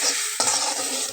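Vegetables stirred in a hot pan with green chilli added, a steady sizzle under scraping strokes of a spoon, with a sharper scrape partway through; close and continuous, no talk.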